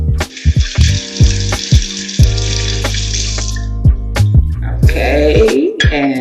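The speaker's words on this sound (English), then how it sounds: "I'm gonna rinse my hands off." Running water splashes over hands being rinsed at a kitchen sink while making a garlic aioli fried catfish sandwich. A close, hissing stream runs for about four seconds, then cuts off, with a few sharp clinks and knocks around it.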